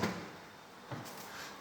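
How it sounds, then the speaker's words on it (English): A soft-close drawer on a 21-inch base cabinet slides shut in a renovated kitchen, giving a soft thud at the start and a second muffled bump near the end with a quiet glide between, close by and alone. "soft close drawer slides as well"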